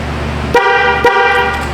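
Two short horn chirps from a 2016 Chevy Equinox as its doors lock, sounding about half a second apart over a steady low hum, close and fairly loud.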